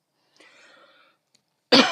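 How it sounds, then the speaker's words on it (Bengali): A faint, breathy voiced sound comes first, then a short pause, then one sharp, fairly loud cough right at the end. "বেশি কথা বলতে গেলে কাশি আসতেছে।"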